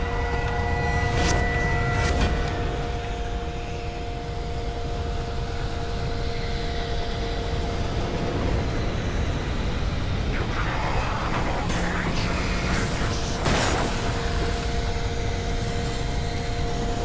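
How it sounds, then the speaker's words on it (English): A helicopter starting up in the Alan Wake video game gives a loud, continuous turbine and engine drone with steady whine tones that holds throughout, while a person talks over it at intervals. "It doesn't take this long to start up a helicopter"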